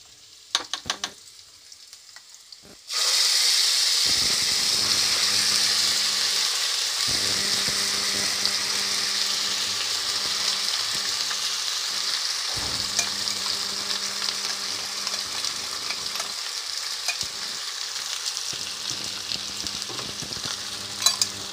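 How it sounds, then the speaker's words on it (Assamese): After a quiet start, a spice paste for matar paneer hits a hot pan and bursts into a loud, continuous frying sizzle. The sizzle holds steady under a low background hum, with occasional clicks of stirring. "পেষ্টখিনি দিয়াৰ পিছত মই অলপ টাইম ভাজি ল'ম"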